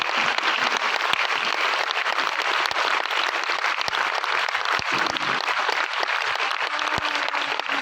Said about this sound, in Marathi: तर कडकडून टाळ्या वाजवा ह्या लोकांसाठी.